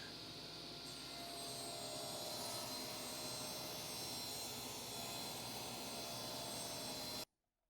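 An old Delta Unisaw table saw starts up and runs, a steady loud whining hum with a high motor tone that holds for several seconds before cutting off abruptly.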